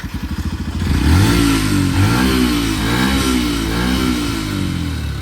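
A motorcycle engine revs hard on a Belagavi to Maharashtra bike ride, starting with a few chugging pulses and then climbing into a loud, sustained rising and falling roar close by.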